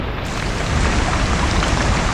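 Heavy rain pours down in a storm during mud crab catching, a dense, steady close-up roar of drops that swells slightly louder after the first moment and holds without pause.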